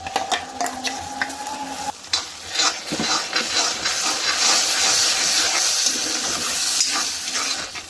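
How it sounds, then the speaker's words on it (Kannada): Ground masala paste sizzling and frying in a pan for mushroom curry, with steady hiss and bubbling plus occasional stirring scrapes, close and continuous throughout. "ಈಗ ರುಬ್ಬಿಟ್ಕೊಂಡಿರೋ ಮಸಾಲೆ ಹಾಕ್ಕೊತಾ ಇದ್ದೀನಿ."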